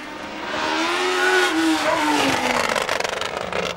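A 1977 Lotus 78 Formula One car, driven by Mario Andretti, screams past with a loud, high-revving engine whose pitch climbs and then falls away as it passes, leaving a fading buzz.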